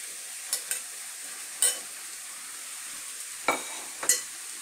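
Prawns are stirred into a fig and potato masala frying in a pan. A steady, moderate sizzle runs throughout, broken by four or five sharp spatula clatters against the pan.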